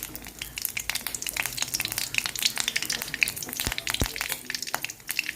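Mustard seeds and curry leaves sizzle in hot oil in a small pan, a dense crackling fizz with sharp seed pops scattered throughout, steady and close, no voices.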